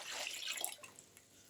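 Rice water is poured into a bucket, giving a brief splashing, gurgling pour that is strongest at first and then trails off into a few faint drips.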